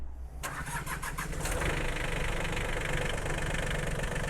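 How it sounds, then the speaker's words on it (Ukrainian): Mitsubishi MT135 mini tractor with a three-cylinder diesel engine and glow plugs cranking briefly, firing up and settling into a steady, close, rumbling idle. "Тепер пропоную трактори завести і послухати, як вони працюють."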